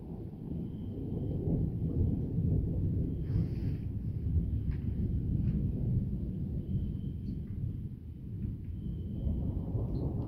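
Thunder from a violent summer thunderstorm with intense lightning rolls as a long, deep, continuous rumble that swells and fades, with faint higher crackles over the low roar.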